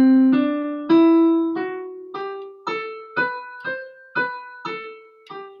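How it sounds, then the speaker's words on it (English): A Lydian mode scale with a sharpened fourth degree, played as a slow ascending run of about a dozen clean, sustained pitched notes, each struck separately and ringing close and clear, with no voice. "the Lydian mode, like I was saying, is sort of similar to a major scale, but listen for the fourth tone in this scale"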